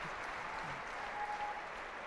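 Sustained applause from the crowd at a 2004 Tournament of Champions squash match between Nicol and White, a steady, dense wash of clapping throughout with no talk over it.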